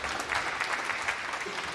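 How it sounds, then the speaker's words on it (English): An arena crowd at the UK Open Pool Championship semi-finals applauding, a steady dense patter of clapping throughout. "Crowd showing their appreciation."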